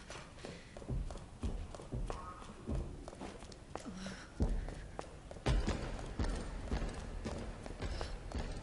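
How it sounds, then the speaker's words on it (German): A pursuer's heavy footsteps in the survival horror game Resident Evil 2 Remake, a steady, fairly faint series of thudding steps that grows slightly louder, with scattered mechanical clicks and little else. "Ich höre nur die Schritte des Todes."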